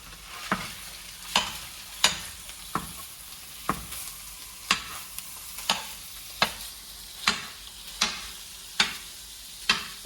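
Ground hamburger meat frying in a pan for sloppy joes, a steady sizzle broken by a dozen regular scraping stirs of a spatula at roughly one-second intervals, close and clear with no talking.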